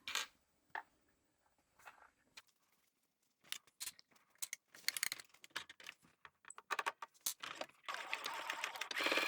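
A sewing machine runs a 3/8-inch bag seam with backstitching at start and end, several short bursts of stitching broken by pauses and small clicks, then a longer steady run at the close, near and without talk.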